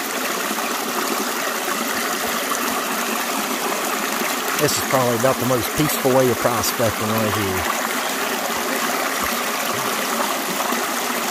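Small creek flowing over shallow bedrock, a steady, close rushing and trickling wash that runs continuously while someone talks over it.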